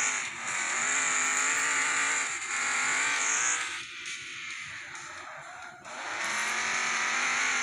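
A Bremen Tourer (Mercedes 280SL) touring car in the Demolition Derby 3 video game, its rear-wheel-drive engine droning steadily with a bright, high whine that dips briefly during a gear shift before climbing again.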